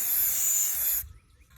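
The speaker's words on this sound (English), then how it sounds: "After I've taped them all off, I just spray them all down." A can of spray paint hisses steadily onto old Cricut cutting mats outdoors, one continuous close, loud spray lasting about a second before cutting off to near silence.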